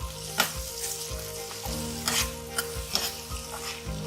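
Spices stirred and frying in a pan for dhaba-style chana dal tadka, with red chili powder, mango powder and garam masala: a soft sizzle punctuated by regular spoon clinks and scrapes, no voices.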